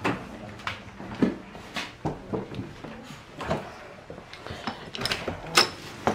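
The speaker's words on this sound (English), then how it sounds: "You hear the door?" A garage door opens nearby with a run of mechanical clanks, rattles and ratcheting knocks, uneven bursts of motor and track noise at moderate loudness with no talk.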